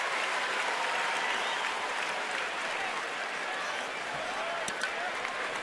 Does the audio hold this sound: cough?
no